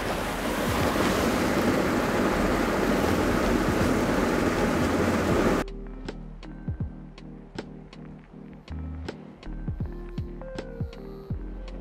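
A small forest waterfall about 8-10 feet high in Jubbal, Himachal roars as a loud, steady wash of rushing water, then gives way to quieter surroundings with scattered light clicks and taps.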